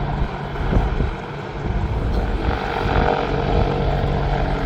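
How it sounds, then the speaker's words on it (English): A Wildcat AH1 helicopter repositions in front of the crowd at a Duxford summer air show, its rotor and turbine producing a loud, steady droning roar that fills the scene continuously. "The Wildcat you see repositioning in front of you is a small, agile helicopter"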